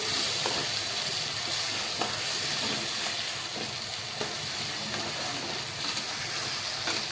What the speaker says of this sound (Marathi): लसूण अद्रकची पेस्ट, टमाटर कांद्याची पेस्ट आणि हिरव्या मिरच्या कोथिंबीरची पेस्ट आपण आता फ्राय करूया